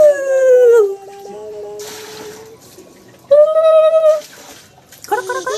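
A pet dog howls on request in a home, long sliding wails rising and falling in two bouts, close and loud, with a voice coaxing between them.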